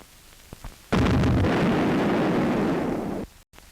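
A WW2 battleship's main gun fires: a single loud, heavy blast with a long broadband roar that rolls on for over two seconds before cutting off, no voices.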